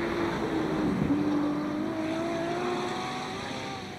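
A race car launches hard at the Simola Hillclimb, its loud engine note rising through the gears as it accelerates away and fades slightly.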